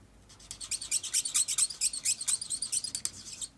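A blending tool squeaks as it is rubbed with pressure over stamped paper, giving a rapid series of short, high, chirpy squeals in uneven rhythm, close up and fairly quiet, with no talk.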